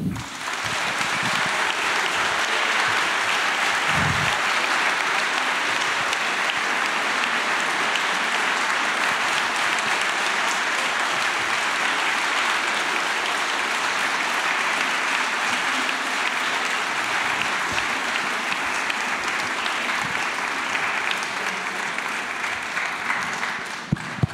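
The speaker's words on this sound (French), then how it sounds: "Je vous demande d'accueillir, d'applaudir et de faire une ovation à David Fuenquinos." Sustained audience ovation for author David Foenkinos at a book-fair talk, dense steady applause filling the room loudly and evenly for the whole span, with no voices over it.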